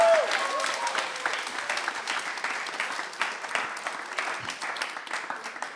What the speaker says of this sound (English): Could I please get another round of applause for this amazing team?